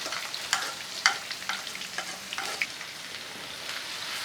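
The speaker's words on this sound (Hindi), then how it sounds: "खुश्क मसाले अच्छी तरह से कुक हो चुके हैं। अब हम इसमें प्याज ऐड करेंगे।" Sliced onions hit a pan of hot dry spices and fry, giving a soft continuous sizzle with scattered stirring scrapes and small pops, close and fairly quiet, with no voices.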